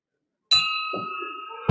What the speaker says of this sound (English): That's our new bell.